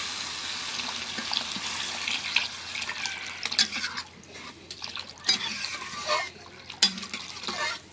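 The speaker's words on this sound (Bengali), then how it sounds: "এখন হলো পানি দিয়ে দিচ্ছি" Water pours and splashes steadily into a cooking pot over tomatoes, with small drips and clinks over a low background hum.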